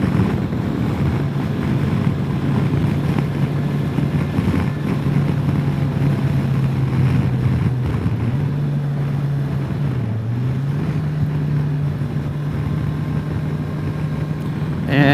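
A 2022 Kawasaki Versys 1000 SE LT+ motorcycle is ridden at steady speed, its engine droning continuously under heavy wind rush, with slight pitch shifts as the throttle changes.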